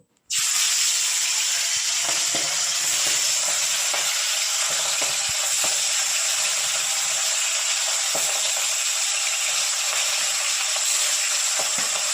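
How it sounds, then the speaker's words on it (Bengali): Fish drop one by one into hot oil in a kadai, and a loud, dense sizzle bursts in almost at once, holding steady and close with faint stirring clicks. "গরম হয়ে গেছে এবার আমি এক এক করে মাছগুলো ছেড়ে দেবো"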